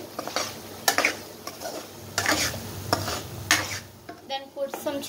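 Spoon scraping through a palak paneer mixture with salt in a pan, with irregular strokes and soft scrapes and clinks against the metal, close and moderately loud, with no voice over it.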